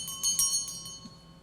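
Small bell ringing in a radio drama, a few light, high metallic tings that fade quickly, fairly close and faint, with no voices over it.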